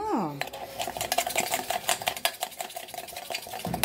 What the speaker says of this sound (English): You gotta stir it a lot. I like it really foamy.